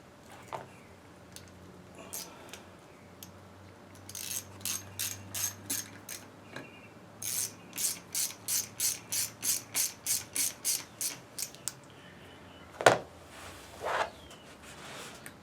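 A ratchet wrench clicks rapidly in short bursts while tightening bolts during a Warn VR8000 winch build, close and crisp, with a long run of evenly spaced ratcheting strokes and a few clanks.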